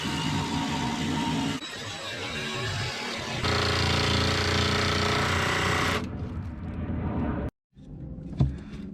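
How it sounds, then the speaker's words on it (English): A jigsaw cuts along a marked line in thick fiberglass inside a boat, with a loud, rapid buzzing chatter in sustained bursts that briefly pause, then stop abruptly before a couple of faint knocks. "I gotta take my jigsaw and cut along the line here"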